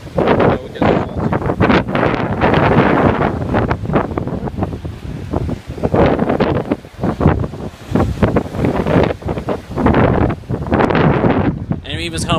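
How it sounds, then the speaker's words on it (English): Wind buffets the microphone hard at a beach while ocean waves surge and wash in, a loud, rough, roaring roar in uneven gusts, with voices talking over it at times. "And even it's kind of windy too."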